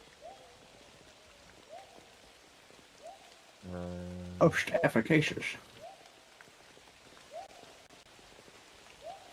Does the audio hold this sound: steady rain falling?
yes